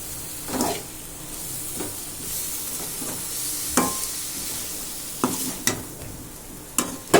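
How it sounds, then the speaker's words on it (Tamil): A spoon scrapes and stirs capsicum gravy with masala in a pan, several separate scraping strokes over a soft continuous sizzle, close and moderately loud. "போட்டுட்டு நல்லா கிண்டி விட்டுக்கோங்க அப்போ தான் நல்லா மசாலா வந்து எல்லாத்துலேயும் மிக்ஸ் ஆகி"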